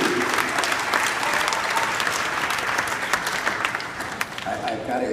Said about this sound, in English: I've got to ask you to hold your applause